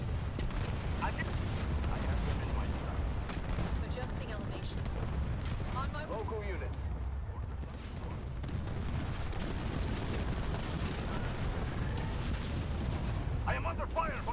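Ongoing battle gunfire and explosions in the Halo Wars 2 strategy game: a steady low rumble of massed weapons fire and booms throughout, under someone talking over it.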